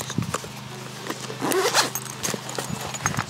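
A large carrying case for a thermal imaging monocular being unzipped, a close, scratchy zipper pull lasting about a second, surrounded by soft handling rustles and light knocks.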